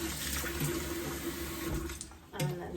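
Water splashes and drips steadily as dyed fabric is wrung out over a basin of water, a soft continuous trickle with a couple of louder spills near the end.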